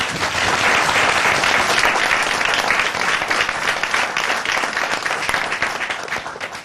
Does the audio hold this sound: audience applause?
yes